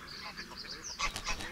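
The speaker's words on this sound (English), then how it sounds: "Greylags, sacred birds of the Slavs, are at home here." Greylag geese honk in a spring wetland, several rising calls at moderate distance, louder bursts toward the end, over a faint outdoor background.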